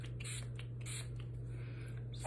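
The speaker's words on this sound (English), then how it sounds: "Spray like 3 sprays." Several short hissing bursts from a rose water toner spray bottle, quick and close against a steady background hum.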